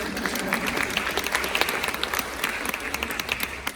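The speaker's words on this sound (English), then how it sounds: "Now, yeah, you can applaud them." An audience at a school project forum applauds a class of students, a dense, steady wash of clapping from many hands lasting throughout without pause.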